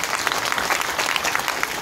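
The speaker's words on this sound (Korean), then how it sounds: "그 일에 박수 한번 쳐주십시오" Audience clapping at a Democratic Party political rally in Busan, a short burst of dense, even applause throughout, moderately loud with no speech on top.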